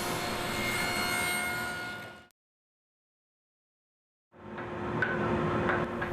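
A saw cuts a taper on a wooden leg using a MICRODIAL tapering jig, a steady loud whirring rasp that stops abruptly, leaves two seconds of silence, then resumes as the blade spins back up.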